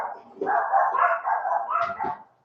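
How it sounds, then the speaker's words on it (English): Several pet dogs bark in a steady run of yaps and yips indoors, close and fairly loud, filling about two seconds before stopping. "Sorry about that, my dogs."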